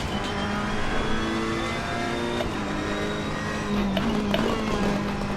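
A Ferrari 488 GT3 engine in the Assetto Corsa Competizione racing game at Catalunya drones steadily through the clip, with a sustained mid-pitched tone that shifts slightly as the throttle comes back in after an oversteer slide.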